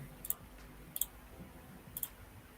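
Computer mouse clicks, three pairs of quick faint double clicks spaced about a second apart over a quiet room hum, with no talking.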